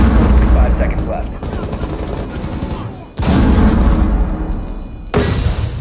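Explosions and gunfire in the video game Rainbow Six Siege, with claymores among the blasts, come as loud bursts and dense crackling. Sharp booms arrive near 3 and 5 seconds, over a steady rumble of combat noise.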